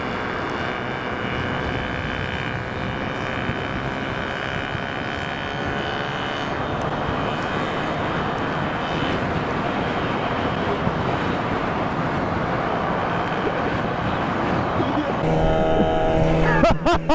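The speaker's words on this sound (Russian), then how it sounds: "Это ИЖ едет." A 38-year-old IZh Jupiter motorcycle engine drones steadily while riding at speed, with constant wind rush over it. A faint voice can be heard near the end.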